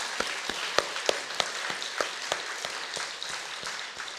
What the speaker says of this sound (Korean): 박수까지 칠래요?